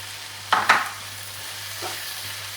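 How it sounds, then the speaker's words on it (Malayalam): Ginger, green chilli and curry leaves sautéing in a pan for fish cutlets give a low steady sizzle, broken by a couple of brief scraping stirs near the start and a softer one later. "ഇതെല്ലാം കൂടി ഇട്ട് നന്നായിട്ട് വഴന്നു വരണം"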